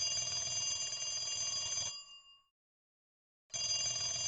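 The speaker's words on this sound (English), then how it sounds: "I heard the phone ring by the front door." An electronic telephone bell by the front door of a house in the Higurashi video game rings in a loud, steady burst, stops for about a second and a half, then starts again, with no voices.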